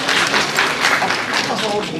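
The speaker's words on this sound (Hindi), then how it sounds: "कृपया जरा जोरदार तालियों से इनका स्वागत करने का कष्ट है।" A hall audience gives loud, dense applause to welcome a guest at an event on journalists in the freedom struggle, steady clapping throughout with voices mixed in.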